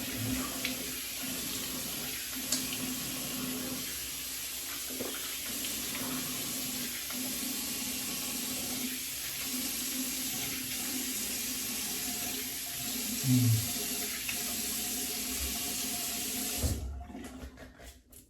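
Tap water runs steadily into a sink while a shaving brush is rinsed, a constant close rushing hiss with soft splashes that shift as the brush moves under the stream, and the flow cuts off abruptly near the end.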